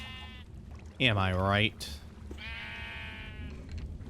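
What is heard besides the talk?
sheep bleating in the video game Minecraft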